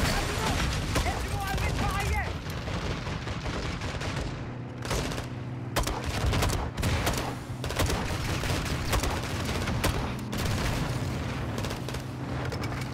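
A light machine gun in Call of Duty: Modern Warfare II fires in rapid, sustained bursts, loud and close, with booming impacts, short gaps between volleys and voices underneath.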